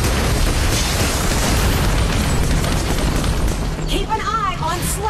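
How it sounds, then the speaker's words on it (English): A tower being destroyed in the Arena of Valor mobile game sets off a loud, sustained explosive rumble with crackling debris, continuous for several seconds, followed by a short synthetic chirping flourish near the end. "Your team has destroyed a tower."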